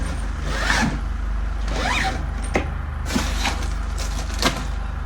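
A zipper on a box containing a uniform is pulled open in several close, loud rasping strokes with short pauses between them, and no one speaks.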